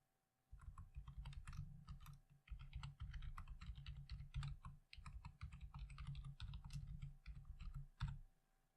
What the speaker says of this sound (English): let's go ahead and type in my email address